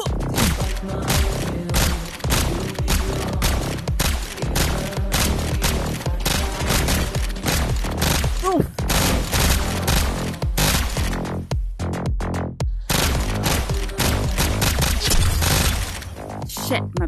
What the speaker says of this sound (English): Why am I trying to shoot everybody in the fucking feet?